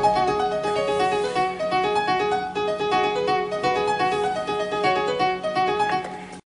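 Synthesized MIDI music converted from an Amiga MOD file, with bright, plinky tones where the melody and backing share one clashing instrument sound, playing steadily and fairly loud.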